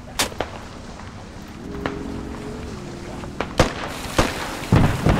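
Sharp gunshots crack in a video game firefight, several separate loud bangs scattered over a few seconds against wind and a low humming background.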